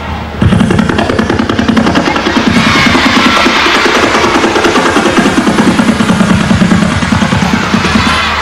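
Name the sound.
helicopter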